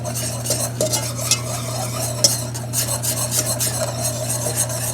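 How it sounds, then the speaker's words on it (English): A utensil stirs cocoa into melted butter in a pan for mint brownies, scraping and clinking in a steady rhythm close up over a constant low hum, with no voices. "And I'm going to go ahead and add the cocoa first. And mix it in quite well."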